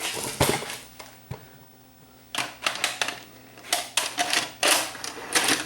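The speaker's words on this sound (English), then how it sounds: "Tape goes in." A VHS tape goes into a JVC HR-D180U VCR that was being repaired for a no-power fault, producing a run of sharp mechanical clicks, clunks and whirring loading thumps, close and fairly loud, with a quiet gap in between.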